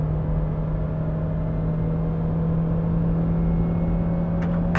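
A Daihatsu Sigra accelerates in second gear toward 6000 RPM, its engine giving a steady droning hum with a constant tone over low road rumble, heard from inside the cabin.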